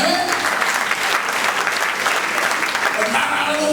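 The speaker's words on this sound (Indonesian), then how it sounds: "Kasih tepuk tangan yang meriah, teman-teman" Enthusiastic congregation clapping during an Indonesian church revival service, a dense, even wall of applause that holds steady throughout, with faint voices mixed in.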